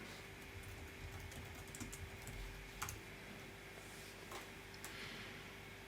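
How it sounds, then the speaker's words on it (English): Keys clatter on a computer keyboard as a command is typed, soft irregular taps and a few sharper clicks, close and fairly faint with no talk. "To do this, simply type terraform apply."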